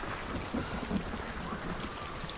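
Heavy rain pours steadily in a video game hunting level, a dense, constant wash of drops with low rumbling beneath, alone without talk.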